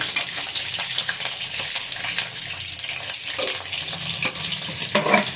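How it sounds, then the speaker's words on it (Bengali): Eggs crackle and sizzle in hot oil in a pan, with a continuous frying hiss and scattered pops and stirring scrapes throughout. "ডিমটা একটু লাল লাল করে ভেজে নেব"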